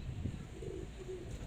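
A sick pigeon gives soft low coos, a couple of faint murmuring notes close by against a quiet background hum.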